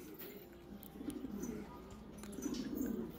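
Pigeons coo in low, soft, repeated rumbling phrases at moderate distance, with steady background noise throughout and no talking.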